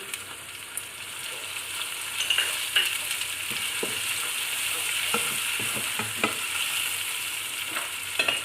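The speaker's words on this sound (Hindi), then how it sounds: "थोड़ी देर के लिए फ्राई करते हैं, 1 से 2 मिनट के लिए।" Oil sizzling in a pan of taro (arbi) with a steady hiss, broken by scattered clinks and scrapes of a spoon stirring.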